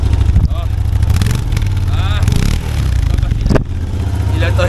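A motorcycle engine starts and revs in loud, uneven bursts close by, its low rumbling drone rising and falling while people talk over it.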